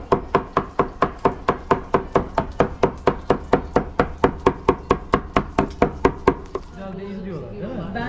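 A knife chopping food on a board in Fethiye, about twenty-five rapid, evenly spaced loud chops in a steady rhythm, then the chopping stops and people talk.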